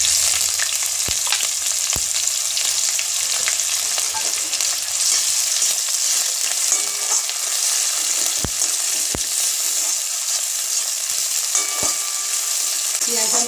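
Onion frying in a pan for a mango chicken dish sizzles loudly and continuously up close, with occasional sharp spatters and pops, and no voice.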